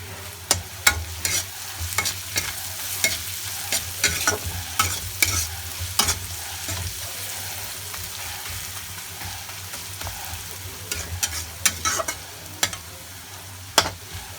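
Dried red chillies fry with garlic in a pan, making a continuous low sizzle broken by frequent sharp clicks and scrapes of a spoon stirring against the metal, with no voices.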